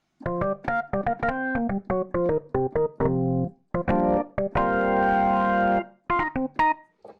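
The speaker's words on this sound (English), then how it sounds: "I tried to recreate an old Hammond organ sound that sounds like this." Synthesized recreation of an old Hammond organ made in Serum: tones with rich stacked harmonics, playing a choppy rhythmic phrase of short stabs and a couple of longer held chords, loud and close.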